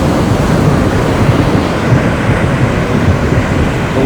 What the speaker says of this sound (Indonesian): Ini airnya makin naik dan makin besar.